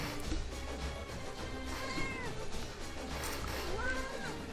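A cat meows inside the video game Omikron: The Nomad Soul, two rising-and-falling mews over a dense background of game music and ambience, fairly close and clear.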